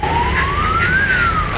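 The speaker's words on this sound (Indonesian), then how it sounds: "Ambulan." An ambulance siren passes close by, one loud wail climbing in pitch and then sliding back down over road rumble.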